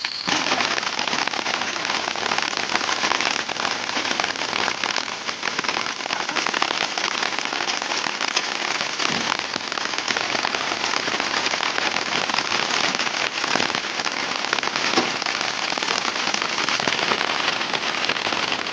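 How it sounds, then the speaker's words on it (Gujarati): Steady rain patters densely on a surface, a constant crackly hiss with a few slightly louder drops, no voices. "વરસાદ ચાલુ છે"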